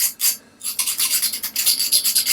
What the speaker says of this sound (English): I'm just using a metal file, and I'm not going to file it down to be perfect